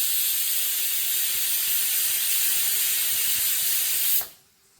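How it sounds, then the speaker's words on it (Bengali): A pressure cooker boiling potatoes lets out a loud, steady whistle and hiss of escaping steam that holds for about four seconds, then abruptly cuts off into near quiet. "কুকারে 2টো সিটি দিয়ে নেব।"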